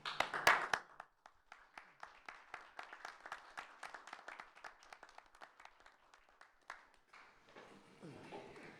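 A small audience at a school board meeting claps in a thin, scattered round that gradually thins out, with a short murmur of voices as it ends.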